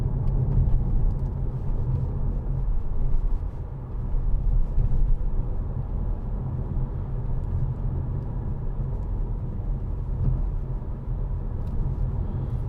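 2014 Audi A5 2.0 TFSI quattro Sportback driving over a bumpy road, heard from inside as a continuous low rumble of road and engine noise, steady and fairly loud with occasional thumps.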